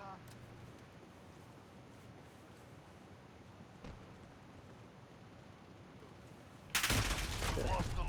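A sudden loud burst of gunfire erupts in the Modern Warfare video game after a quiet stretch of low background ambience, sharp and close.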